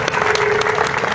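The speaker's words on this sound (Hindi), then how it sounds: "एक बार जोरदार तालियां हो जाएं।" A crowd at a protest sit-in claps loudly, with dense, steady applause filling the whole moment.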